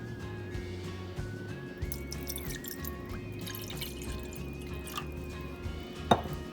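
A glass of water being poured into a pan for a homemade kadha in a kitchen: a soft, steady trickle over a low background hum, with a brief sharp clink near the end.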